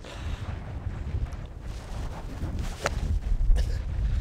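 Wind gusts across an open seaside golf course and buffets the microphone in low, uneven rumbles that swell and fade, with a couple of sharper bursts toward the end.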